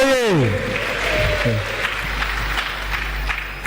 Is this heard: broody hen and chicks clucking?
no